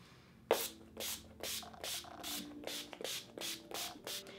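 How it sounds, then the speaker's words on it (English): Urban Decay All Nighter setting spray hisses from a pump bottle in about nine short, even spritzes, close up and soft against a quiet room. "I take my Urban Decay All Nighter Setting Spray"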